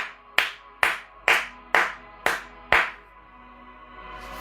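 Applause in a gathering at a Divine Mercy novena meditation, heard as six sharp, evenly spaced hand claps, each with a short ringing decay, followed by quiet.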